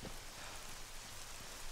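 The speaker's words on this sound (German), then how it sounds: "Ich hatte mich ja gerade darüber gefreut, dass ich keinen Regen habe" Steady rain hisses loud and even in the Arma 3 video game, a broad unbroken wash of falling water with no voices.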